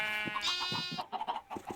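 Sheep in Minecraft give several short, wavering bleats one after another, close and fairly loud, with no talking over them.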